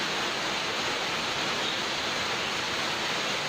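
Floodwater in Kerala rushes across a former rice field like a river, a steady, loud broadband wash of flowing water that holds constant throughout with no voices.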